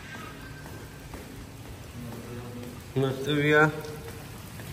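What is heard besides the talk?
rain falling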